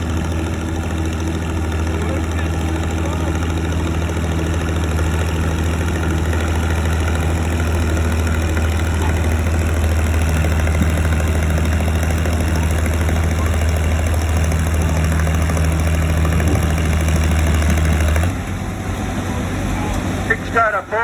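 A 1939 CO-OP No.3 antique tractor engine idles at a fair tractor pull with a steady low chugging throb that runs unbroken for a long stretch, then shifts near the end, with faint voices behind it.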